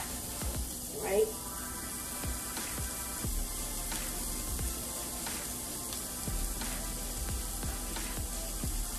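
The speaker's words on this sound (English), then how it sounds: "put your onion in. You hear that? That's because the pan is nice and hot." Onions hitting a hot pan while frying cabbage give a steady, soft sizzle, with faint clatter of stirring and a brief louder burst near the start.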